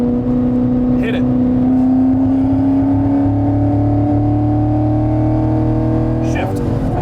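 A 2019 Chevy Camaro SS 1LE is driven hard, its V8 engine droning loud and steady with a slowly rising pitch throughout, and a brief shift-like break near the end.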